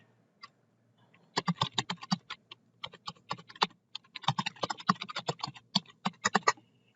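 Login details are typed on a computer keyboard in short, close bursts of quick clicking keystrokes with brief pauses between them, in an otherwise quiet room.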